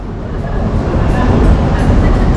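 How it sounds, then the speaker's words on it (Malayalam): A steady low rumble of a train running through an enclosed Delhi Metro station, loud and continuous, with a rushing metallic hum and no clear voices. "ഞങ്ങളെല്ലാവരും ഡൽഹി മെട്രോ സ്റ്റേഷൻ്റെ ഉള്ളിലാണ്."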